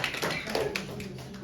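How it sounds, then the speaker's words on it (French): An audience at a singles seminar claps for the trainers: brief, fairly close applause made of dense overlapping hand claps that stays level for about a second and a half. "On applaudit les formateurs et les formatrices."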